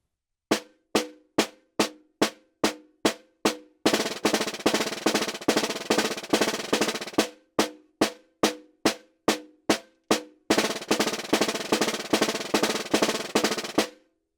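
A snare drum plays crisp, evenly spaced alternating eighth-note strokes, then switches to dense buzzing multiple bounce strokes, the two patterns alternating measure by measure, loud and close with no talking.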